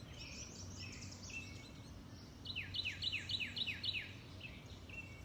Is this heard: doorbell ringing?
no